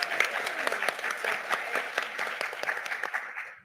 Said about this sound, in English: Can we clap for Zaria one more time?